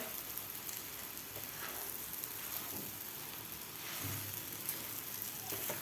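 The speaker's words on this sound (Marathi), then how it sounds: "दोन ते तीन मिनटासाठी व्यवस्थित आपल्याला हे एकसारखं परतून घ्यायच्या आहेत वड्या" Moong dal vadi sauté in a pan, giving a soft, even sizzle like light rain that runs quietly and steadily throughout without any voices.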